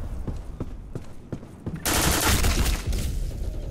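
Gunfire in the online shooter Black Squad, a rapid rhythmic stream of shots that swells into a dense, loud volley of overlapping bursts partway through, with no talking.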